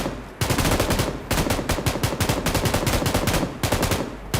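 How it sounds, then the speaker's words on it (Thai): Rapid automatic gunfire from PUBG Lite, loud and close, with dense bursts of shots running almost continuously and only brief pauses between strings of fire. "นี่ยิงมั่วแล้ว"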